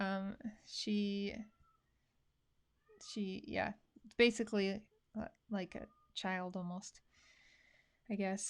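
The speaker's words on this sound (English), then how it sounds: "can you hear the cat in the background?" Pet cat meowing indoors, several short, clear meows near the microphone, interleaved with and partly over a person talking.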